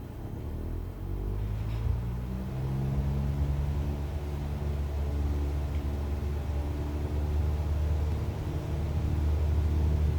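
An airliner in Microsoft Flight Simulator 2020 accelerating down a runway for takeoff, a steady loud engine roar and low rumble building over ten seconds, with no talking.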